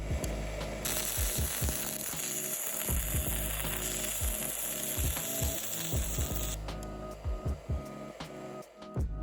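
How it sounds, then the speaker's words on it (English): A small handheld stick welder fuses a cut C-clamp to the head of a 5/8 bolt, giving a steady, close crackling hiss laced with rapid ticking and clicking, with no talking. "Now we just need to weld that cut C-clamp to the head of that 5/8 bolt."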